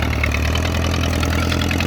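An Allis Chalmers WD45 tractor engine idles steadily at close range, a continuous low mechanical rumble with a faint rhythmic knock and no voices.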